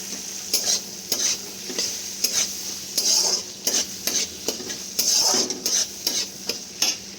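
Green chillies and peas being stirred into a sizzling mushroom masala, with rhythmic spoon scrapes and clinks against the pan over a constant frying hiss, close and without talk.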